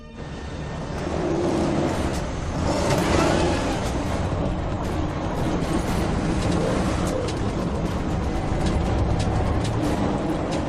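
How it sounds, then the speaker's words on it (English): A heavy truck engine labours under strain while fighting for traction on a highway, a loud continuous low rumble and grind that swells slightly midway and holds steady throughout. "The truck's fighting for traction right now."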